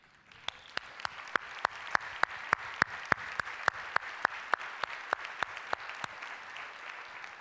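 Applause at a talk: evenly spaced, sharp claps in a steady rhythm, about three per second, moderately loud and unbroken for several seconds with no talking over it.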